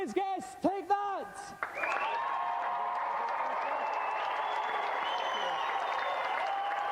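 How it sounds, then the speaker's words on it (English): A studio audience on the GamesMaster TV game show breaks into sustained applause with some cheering for the day's guest, after a brief spoken line from a presenter, keeping up a steady, dense roar until the end. "let's have another big round of applause for today's guest."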